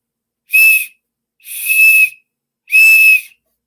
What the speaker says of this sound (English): So it takes less effort and less energy to blow on that whistle.